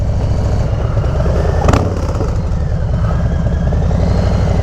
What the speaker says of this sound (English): One thing I absolutely love about this exhaust is the decel note to it.